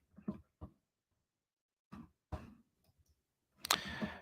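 Computer mouse clicks while browsing a sports stats website, a few soft, separate clicks spaced over several seconds with quiet gaps between them, close and faint, followed by a louder rustling burst at the end.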